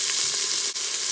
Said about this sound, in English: I'm gonna add the onions to the pot